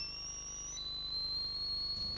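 A whistled imitation of a nightingale's song that sounds like a policeman's whistle: a sustained shrill tone that jumps to a new pitch partway through, loud and alone over a faint steady hum.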